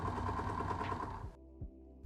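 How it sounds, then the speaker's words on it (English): A sewing machine runs a straight stitch along a folded fabric strap cut from a bedsheet, giving a dense, steady mechanical whir for over a second before it stops abruptly, leaving a couple of faint knocks. "I sewed it with the straight stitch"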